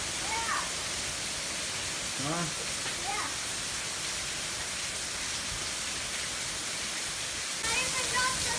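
Freezing cold rain pouring from a hanging gutter outdoors, a steady dense rushing hiss throughout, with a child and an adult talking briefly over it.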